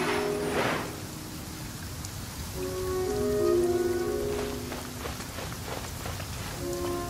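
Steady rain falls in the video game Genshin Impact, a dense hiss of drops on surfaces, with soft game tones and light chimes over the top.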